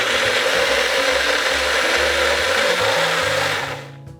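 A blender blitzing mint and peas into a purée, running as a loud, steady whirring roar that shifts pitch slightly before winding down at the end.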